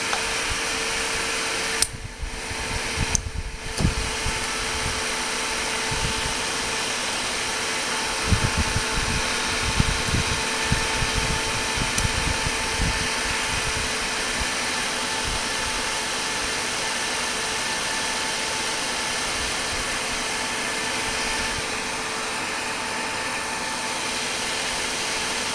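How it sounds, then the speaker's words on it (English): A 250-watt ZVS induction heater runs while heating a screwdriver, giving a steady electrical hum with a high whine, broken by a few short clicks and crackles early on, near and constant. "now I'm going to turn it on"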